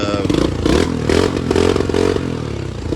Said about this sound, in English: Alright, so he's gonna test it out now, guys. Sounds alright.